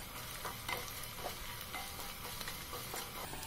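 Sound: sautéing shallots and curry leaves in a pan

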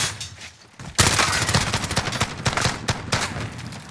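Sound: gunfire in Call of Duty Warzone video game

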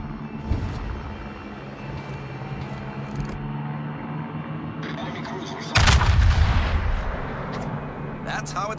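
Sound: naval gunfire in the video game World of Warships

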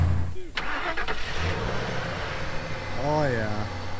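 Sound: Ford F-150 truck engine starting up

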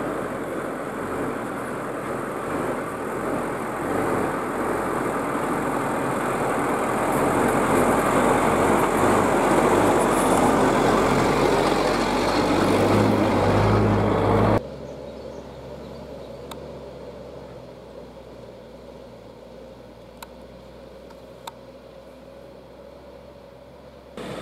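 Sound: engine of a Sobol 4x4 van in low gear, viscous coupling engaged

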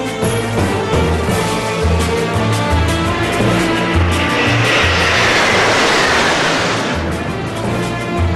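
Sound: military jets of the Silver Stars team performing airshow maneuver

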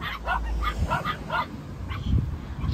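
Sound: dogs barking

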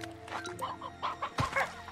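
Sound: hens clucking in the video game Slime Rancher 2

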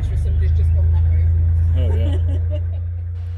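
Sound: three-cylinder canal boat engine running

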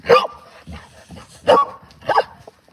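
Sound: dog barking

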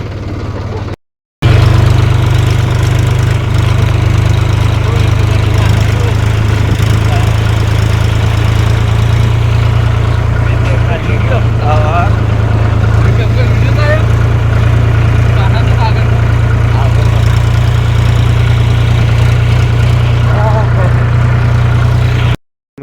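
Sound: tractor engine running while driving to the field

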